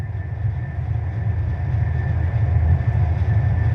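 A passenger train moving toward Chittagong in Bangladesh gives a loud, continuous low rumble heard from inside the carriage, with a steady mechanical drone and faint rattling throughout.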